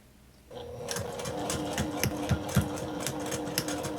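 A sewing machine back stitches the end of a 1/4 inch seam on a Single Irish Chain quilt block, starting after a brief quiet moment and then running in a steady close mechanical whir with regular needle clicks.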